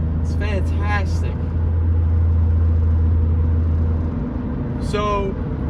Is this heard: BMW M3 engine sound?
yes